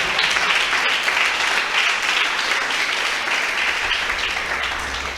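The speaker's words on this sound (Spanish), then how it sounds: "Dele fuerte esa prenda de palmas al Señor" Church congregation clapping steadily throughout, a dense, loud wash of applause from a large crowd with no talk over it.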